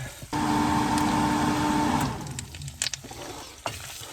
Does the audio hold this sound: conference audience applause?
no